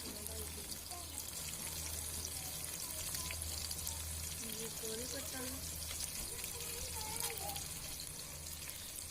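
Masala frying in a pan on the stove while a spoon stirs it, for a chana and soya pulao: a steady, dense sizzle and hiss that keeps going without a break for the whole stretch.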